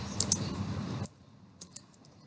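A few scattered keystrokes on a computer keyboard while HTML code is typed, a short busy burst of clicks giving way to sparse, quiet taps.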